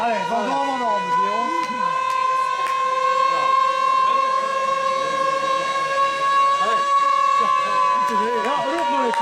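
A loud, steady siren with a sustained wailing tone at a football match between Meetjesland and Zeveren Sportief, sounding continuously over a crowd with people talking nearby.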